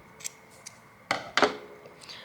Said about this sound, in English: I'm gonna grab the scissors and cut this with a little bit of a tail